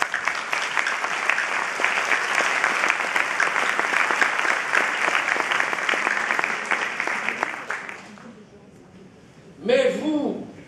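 Audience applause at a general assembly of the French national bar council, a dense burst of clapping that holds for about eight seconds and then stops, followed by a brief voice.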